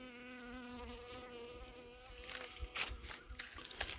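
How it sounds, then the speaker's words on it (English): A honeybee buzzes around close to its hive, a steady droning whine with wavering pitch that swells and shifts as the insect moves near, against faint outdoor background. "Oh, she's buzzing around."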